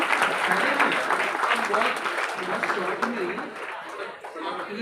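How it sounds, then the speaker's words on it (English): Applause from a school audience at an N.L. Dalmia program in Mira Road, dense steady clapping with some chuckles and chatter mixed in, loud and close, easing slightly toward the end. "A big round of applause for him."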